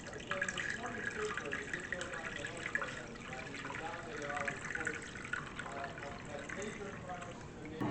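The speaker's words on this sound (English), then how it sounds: "we'll add some hot water about halfway up the ramekins" Hot water is poured into a baking pan around ramekins of crème brûlée, a steady trickling, splashing fill heard at low level without talk.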